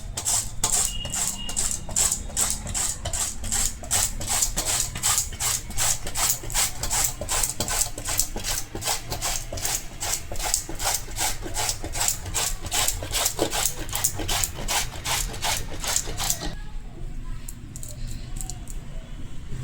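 A peeled vegetable rubbed hard against a kitchen grater in fast, even rasping strokes, loud and close, running on steadily before stopping near the end.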